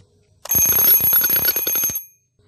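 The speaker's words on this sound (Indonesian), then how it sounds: "Jam alarm pun atau bel masuk kelas berbunyi." A school bell or alarm clock rings for class, a loud rapid metallic clatter lasting about a second and a half, starting and stopping abruptly against near silence.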